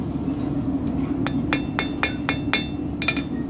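Hammer blows strike a steel throwing spike, shaping its bevel on the anvil: about nine sharp, ringing impacts in a steady, unhurried rhythm, close and clear over a constant low forge roar.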